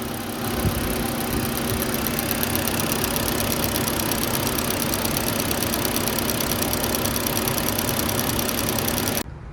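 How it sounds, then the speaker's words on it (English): A 2.5-liter five-cylinder engine in an MK6 Volkswagen Jetta idles steadily at close range, with a fast, even ticking from the fuel injectors running over the hum, alone and unbroken for about nine seconds before cutting off. "Regular injector noise."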